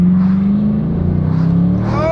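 A 600-horsepower dream car, currently making about 460 horsepower, accelerates with a loud, steady engine drone that climbs slowly in pitch, heard from inside the car over two seconds of continuous running.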